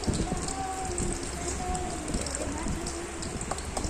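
Small prawns fry in oil with a continuous, close crackling sizzle like rain on a surface, steady and fairly loud, with no speech.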